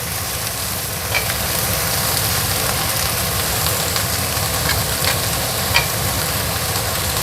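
Onions fry in a pan with a loud, steady sizzle up close, broken now and then by faint clinks and stirring scrapes; no one speaks.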